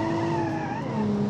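Car engine revving on a downshift in a manual-gearbox hatchback, a steady droning tone that climbs in pitch as the RPM rises, close and continuous.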